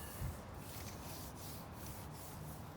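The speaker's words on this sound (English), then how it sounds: "it's not all coming up yet, so it can't be dry yet. So I'm going to keep on rubbing" Paper is rubbed by hand over a gel plate print, a soft, continuous dry scrubbing with faint rhythmic strokes, quiet and close, with no voices.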